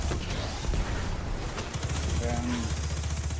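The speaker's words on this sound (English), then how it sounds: "And then you just add an extra damage with your machine gun." Machine gun fire in a shooter video game crackles as a rapid, steady stream of shots over a dense, loud mix of game sounds and explosions.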